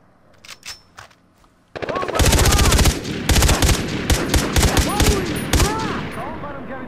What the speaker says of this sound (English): Just keep firing at him.